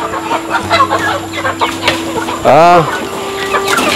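A chicken clucking nearby, with a sharp squawking burst partway through over a faint background hum.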